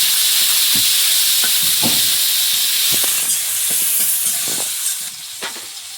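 Panch phoron spices and chopped onion sizzle in hot oil with a loud, continuous hiss, punctuated by scattered pops and stirring clicks, gradually easing slightly toward the end.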